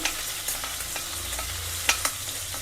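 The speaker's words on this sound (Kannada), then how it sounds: "ಒಂದು ಅರ್ಧ ಗೆಡ್ಡೆ ಬೆಳ್ಳುಳ್ಳಿ ಹಾಕಿದೆ ಅಷ್ಟೇ ಜಾಸ್ತಿ ಏನು ಹಾಕಿಲ್ಲ ಸ್ವಲ್ಪ ಫ್ರೈ ಆಗಬೇಕು" Half a head of crushed garlic frying in oil in a pan, a soft continuous sizzle broken by scraping stirs and small clicks of a spoon, with no talking.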